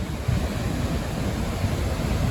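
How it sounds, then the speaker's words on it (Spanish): Strong flood-swollen waterfall in Chile, a steady loud rushing roar of heavy water flow with deep low rumble and wind buffeting, continuous throughout with no voices. "ya estamos llegando frente a la cascada y wow, es impresionante el flujo de agua que hay"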